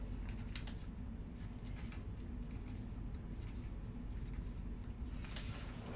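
A pen scratches quick, rough marks on paper folded into fourths, a soft, steady scribbling close up with faint taps as strokes start and stop.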